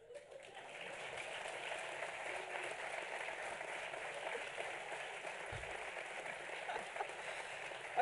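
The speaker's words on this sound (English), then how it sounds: "everyone clapping here is genuinely happy" Audience clapping steadily at a corporate budget event, a dense, continuous wash of applause holding at an even level throughout with no pauses.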